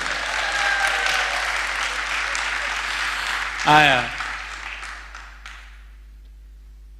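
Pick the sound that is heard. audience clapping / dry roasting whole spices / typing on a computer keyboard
audience clapping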